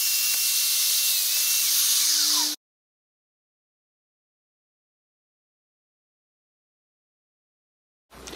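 A Festool Domino 500 joiner plunging into a wood panel, a loud, close motor whir with a cutting hiss that runs for about two and a half seconds and then cuts off into silence.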